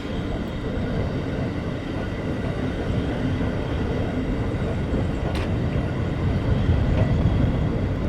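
A suburban train runs along the down line near Agarpara, a loud, steady rumble with some rattling from the carriages that carries on throughout, with no voices.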